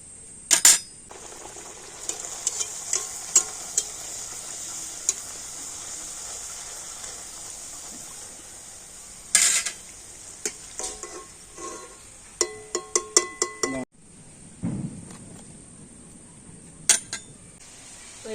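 Luchi puffed flatbreads fry in hot oil with a steady soft sizzle, broken by clinks and scrapes of a metal utensil against the pan, some in quick clustered runs, with no talking.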